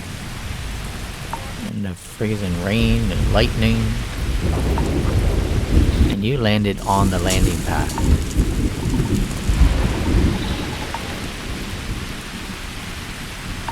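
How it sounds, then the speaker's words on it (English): Freezing rain and rolling thunder on an alien planet in the game Starfield, steady heavy rain hiss with deep rumbles throughout, someone talking over the storm at times. "And the freezing rain and lightning."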